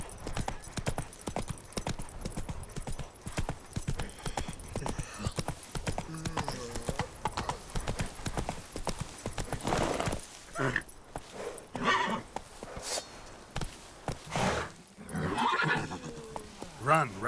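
A horse gallops in The Witcher 3 video game, with a steady clip-clop of hooves and neighs and whinnies, while a voice talks over the hoofbeats and game sounds.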